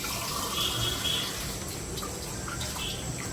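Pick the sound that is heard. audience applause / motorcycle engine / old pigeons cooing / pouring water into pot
pouring water into pot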